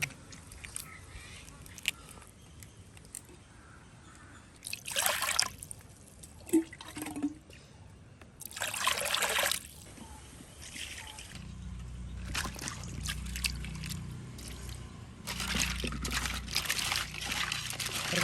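Crabs are rinsed in water in a home kitchen, with splashing, dripping and sloshing in irregular bursts and a steady trickle running underneath, close and moderately loud.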